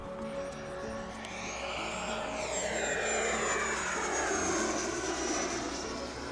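A Viper RC jet roars past overhead with a steady turbine whine that rises and then falls in pitch as it passes, loud and continuous throughout.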